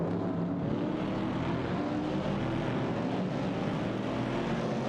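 Ford Mustang Boss and Ford Falcon racing engines roaring together in a racing video game, a continuous dense drone at steady pitch and loudness with no talk.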